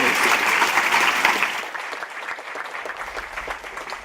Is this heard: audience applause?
yes